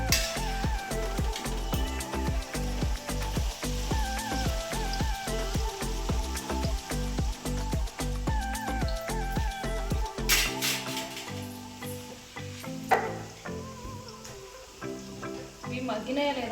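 Usirikaya (Indian gooseberry) pickle ingredients frying in a pan, a steady crackling sizzle with dense sputtering pops for about ten seconds, then quieter frying with occasional louder pops.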